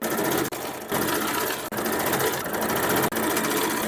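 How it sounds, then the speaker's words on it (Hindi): A sewing machine runs in steady, loud bursts while stitching the front and back parts of a palazzo pant together. The motor whirs continuously, with brief pauses between runs. "अब नॉर्मल जैसे हम पूरा नीचे तक सिलाई लगा रहे हैं सीधी, वैसे ही लगा लेंगे अपने फ्रंट और बैक पार्ट को मिलाते हुए।"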